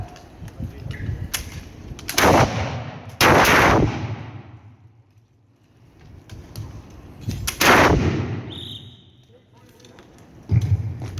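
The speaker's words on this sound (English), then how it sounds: "Rifles! Advance skirmish fire! Advance skirmish fire!" Historical rifles crack out in an advancing skirmish drill at Landguard Fort, Felixstowe, with about five loud, sharp reports in uneven spacing, each trailing a short outdoor echo, over low background murmur.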